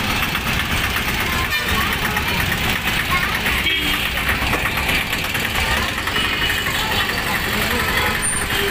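Busy road traffic with car and truck engines, a steady, dense rumble of idling and passing vehicles that carries on throughout, with people talking over the noise.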